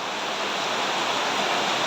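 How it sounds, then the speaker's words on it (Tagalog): Rainwater from a broken house gutter pours steadily into a bucket during heavy rain, a loud, continuous broadband rush of splashing water close by with no pauses. "grabe talaga ang pumapasok na tubig dito sa aming bahay"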